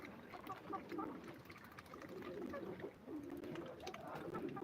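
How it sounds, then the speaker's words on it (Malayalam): Soft, low cooing of pigeons repeats through the clip, fairly close, over a faint background hum with scattered small clicks. "മൂന്ന് പ്രാവുകളുണ്ട്"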